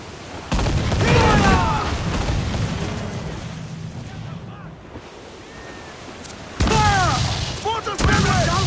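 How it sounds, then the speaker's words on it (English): Ship mortar fire in Assassin's Creed IV Black Flag booms in heavy blasts over rolling ocean waves and wind, with a big burst at the start and more impacts later, and voices shouting amid the battle. "Mortars, Kenway!"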